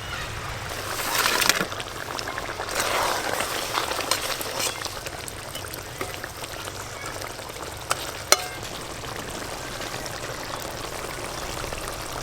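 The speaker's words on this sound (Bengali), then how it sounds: "ঝোল ফুটে গেছে, এবার ভেজে রাখা মাছ দেব" Fried catla fish pieces go into a boiling gravy, giving a continuous bubbling sizzle with a few louder splashing bursts early on, close and moderate in level.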